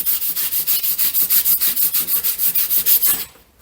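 Rhythmic back-and-forth rubbing on the rear window rubber seal of a car during cleaning, about sixteen steady strokes at a brisk, even pace, close and loud, stopping abruptly at the end.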